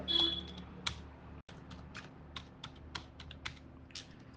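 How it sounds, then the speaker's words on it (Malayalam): A password being typed on a computer keyboard: a steady run of light, crisp key clicks at an uneven pace, close and clear, with no voices over it. "പാസ്വേഡ് ഞാനിവിടെ ടൈപ്പ് ചെയ്ത് കൊടുക്കുകയാണ്"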